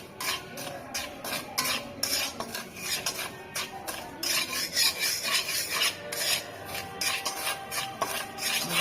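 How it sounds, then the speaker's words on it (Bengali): Food frying in a pan in a Bangladeshi village kitchen is stirred with quick, repeated rasping scrapes against the metal, a steady rhythmic scratching over a faint sizzle, close and moderately loud. "কত সুন্দর ভাজা হয়ে গেছে"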